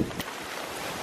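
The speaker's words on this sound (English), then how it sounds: "The wind's really picking up" Wind picks up outdoors by the sea at St Ives, gusting as a broad, steady roar of rushing air and microphone buffeting, close and fairly loud, with no voices.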